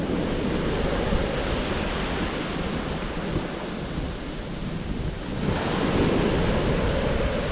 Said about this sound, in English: Of course that depends on if these waves calm down or not.